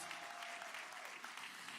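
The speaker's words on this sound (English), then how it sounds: "they deserve a round of applause" Steady applause from a large crowd of families at a 5th grade graduation, continuous clapping heard from a distance, fairly faint.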